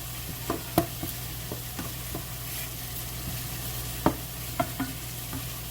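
Chopped beef carne picada cooking in a pan, a steady soft sizzle under a low constant hum, broken by occasional sharp clicks and clacks of a utensil; no talking.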